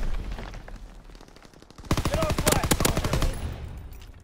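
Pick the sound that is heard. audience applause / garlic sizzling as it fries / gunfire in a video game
gunfire in a video game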